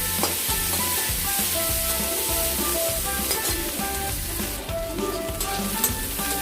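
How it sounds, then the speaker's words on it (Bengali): Sliced onions frying in oil until reddish for a spicy duck egg and potato curry, giving a dense, continuous close sizzle with steady crackling and occasional stirring scrapes. "পেঁয়াজগুলোকে আমরা একটু লাল লাল করে ভেজে নেব"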